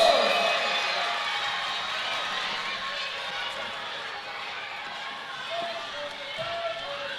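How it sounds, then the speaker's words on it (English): A rally audience at a Tzivos Hashem children's gathering for Yud Beis Tammuz breaks into a loud, sustained round of applause with cheering, a dense wash of clapping that slowly tapers over several seconds. "Give yourselves a big round of applause!"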